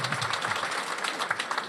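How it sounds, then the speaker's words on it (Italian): Applause from an audience at a public ceremony honoring a school, its teachers and students, a dense, steady patter of many hands clapping close by with no voices over it. "vi chiedo degli applausi"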